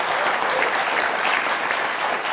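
A studio audience on a tvOne election talk show gives loud, sustained applause, a dense unbroken roar of clapping close to the microphone with no talk over it.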